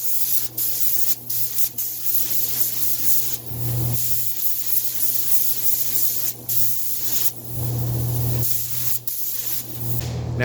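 Black Widow spray gun laying metallic base coat on a grill inside a cool paint booth, a steady close hiss with brief pauses between passes over a constant low hum.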